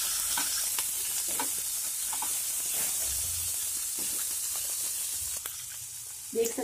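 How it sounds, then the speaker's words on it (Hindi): Onion and vegetables for chilli paneer sautéing in a pan on full flame, giving a continuous close hiss and sizzle with light stirring scrapes, fairly quiet. "इसको इसमें क्रंचीपन लाने के लिए हल्का सा इसको सॉटे करेंगे बस। और इसमें डाल देंगे प्याज"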